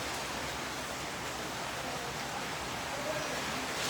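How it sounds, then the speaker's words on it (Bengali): Heavy rain falls outside as a steady, even hiss with no breaks, filling the whole moment at a moderate distance. "দেখছেন বাইরে অনেক বৃষ্টি হচ্ছে"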